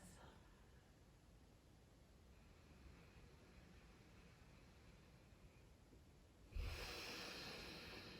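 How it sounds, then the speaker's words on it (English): One slow, deep full yogic breath, drawn in and let out through the nose as a soft airy rush, faint and close. A louder, brighter exhale surges near the end, with no talk. "the full yogic breath"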